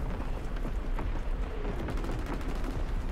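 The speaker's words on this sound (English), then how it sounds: "Incoming enemy artillery." Enemy artillery fire in the Call of Duty: WWII video game, a continuous dense roar of booming blasts and rumbling explosions with scattered sharper bangs, steady and loud across the whole stretch without pause.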